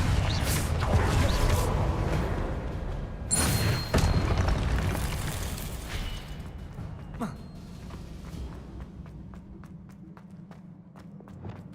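Blasting-spell explosions in a Harry Potter video game: a dense, loud burst of booming blasts and debris in the first few seconds, then a fading rumble with scattered light clicks and impacts.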